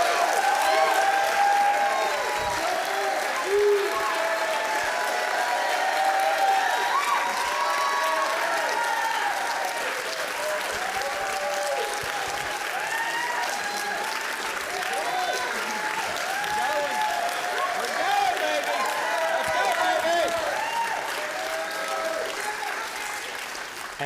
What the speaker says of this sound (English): Give all of our candidates a big round of applause tonight.